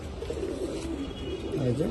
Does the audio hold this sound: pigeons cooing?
yes